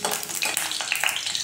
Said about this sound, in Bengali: দিয়ে দিচ্ছি দুটো শুকনো লঙ্কা, দিয়ে লঙ্কাটা একটু ভাজা হওয়া পর্যন্ত এখানে নেড়ে নেব